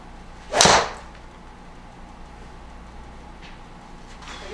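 A single close, sharp whoosh and crack of a golf driver strike, a Ping G430 10K or Qi10 MAX fitted with a 24 Ventus shaft, cuts through a quiet hitting bay and fades quickly into low background hum.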